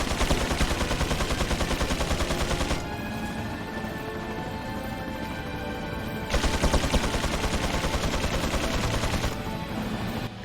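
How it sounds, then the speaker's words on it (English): Mounted machine gun fire from the Resident Evil 4 video game, loud sustained automatic bursts in two long stretches separated by a quieter pause with game ambience. "We have 3 mounted machine guns in this area that we need to take out."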